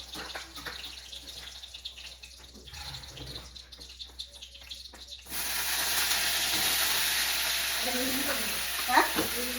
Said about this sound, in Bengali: এবার তেল দিলাম, বেগুন ছাড়বো